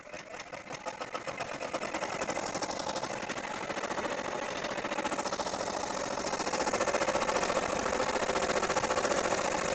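A computerized embroidery machine stitches out an insect's front wing, a steady rapid mechanical chatter of needle strokes running continuously and close, growing slightly louder toward the end.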